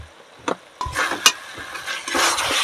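Ginger, cumin and garlic paste with onion being stirred and fried in fat in a pan for mutton ghugni, giving a steady close sizzle broken by a few sharp scraping and stirring knocks.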